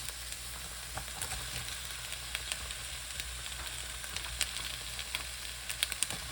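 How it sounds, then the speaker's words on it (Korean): Onion and mushrooms fry in olive oil, a quiet, even sizzle with scattered small pops and stirring ticks, close by and with no speech. "이렇게 올리브유 때문에 양파가 조금씩 노란빛을 띠면서 익어갈 때 버섯을 넣어줍니다"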